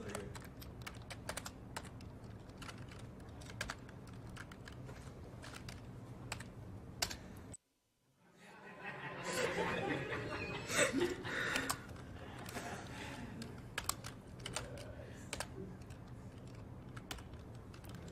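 Rapid clicking of typing on a computer keyboard runs on and off, close and fairly busy, broken by a brief silent gap before resuming amid louder background clatter.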